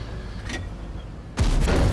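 Tank cannon shot in a tank video game, a single loud broadband blast landing near the end after a stretch of low rumbling game ambience.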